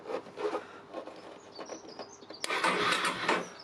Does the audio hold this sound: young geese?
no